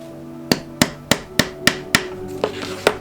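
Hammer tapping tacks into a homemade memo board, with about eight sharp, evenly spaced knocks close by, each ringing briefly before the next.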